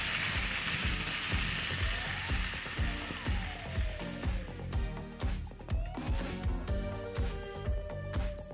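Bacon fries in a pan with a dense, steady sizzle and crackle, punctuated by rhythmic scraping and clinking from kitchen handling; close and continuous with no voices.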